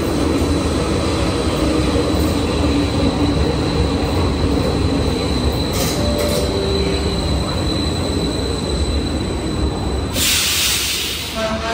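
Metro train at an Athens railway station, a loud continuous rumble of wheels on track with a high squeal and a brief burst of hiss near the end, close and dominant.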